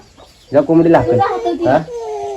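A hen clucks in a short burst of several throaty notes, close and fairly loud, with faint background sounds.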